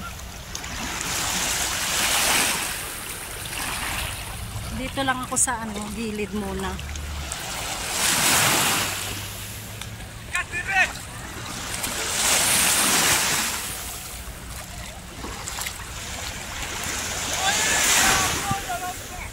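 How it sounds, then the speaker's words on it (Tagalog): Strong sea waves wash onto the shore in Cyprus in summer, surging and receding in repeated swells every few seconds, with people talking briefly between the rushes. "Lakas din ang alon."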